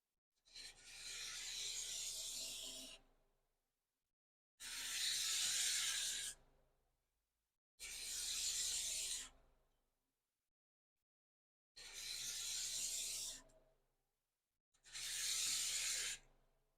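A freshly sharpened card scraper is drawn across wood, lifting shavings: five separate close, dry rasping strokes, each lasting a second or two, separated by short silent pauses.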